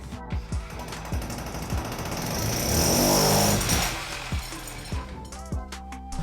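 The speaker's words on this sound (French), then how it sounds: "je vais mettre un petit coup de mèche" A drill bit bores a hole through a wall for double-flow ventilation ducts during a renovation, making a close, rhythmic hammering rattle that surges louder in the middle, with short bursts on either side.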